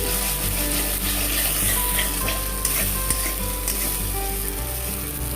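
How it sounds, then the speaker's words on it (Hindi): Onion and tomato paste fries in a pan for kadai paneer, a loud, steady sizzle with continuous scraping and stirring strokes close up, no voices. "मैंने जो ये वाला पेस्ट लिया था मतलब ऑनियन और टमाटर का वो डाल दूंगी और इसको अच्छे से चला लूंगी"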